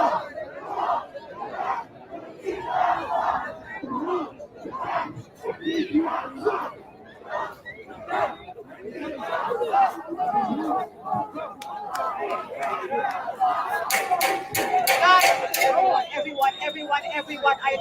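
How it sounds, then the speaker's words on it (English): A large crowd gathered after a hospital bombing in Gaza, loud rhythmic chanting and shouting voices rising and falling in waves, with rapid sharp clicks near the end and no single speaker standing out. "So many people, I can't count because I can't see the end of the crowd."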